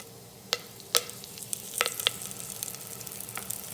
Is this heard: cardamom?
yes